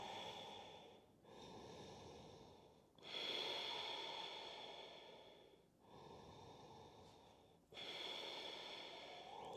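Slow, audible breathing during a hatha yoga pose, four long airy breath cycles separated by brief pauses, close and steady with a soft nasal hiss.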